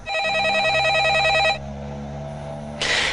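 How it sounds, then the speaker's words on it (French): A telephone rings indoors during a French TV drama scene: a loud warbling electronic ring tone for about a second and a half, then a low hum, and another burst of ringing starts near the end. "ton téléphone ressonne"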